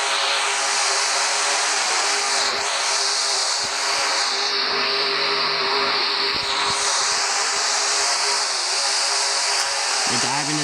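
Race trucks roaring around Talladega Motor Speedway late in the final stage, with a loud, continuous broadband engine roar that never lets up and faint voices mixed underneath.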